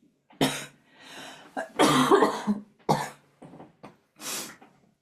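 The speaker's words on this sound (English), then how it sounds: "And I'm going to stop for a cough." A person coughs repeatedly in several separate bursts, close and fairly loud, with brief pauses and breaths between the coughs.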